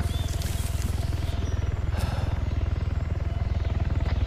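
A Hip helicopter in Arma 3 thuds with a fast, steady rotor pulse as it comes in to land troops, loud and close throughout with no speech.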